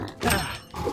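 A big boar in the Eternal Edge video game lets out a couple of short, rough grunts, loud and close, with a brief pause between them.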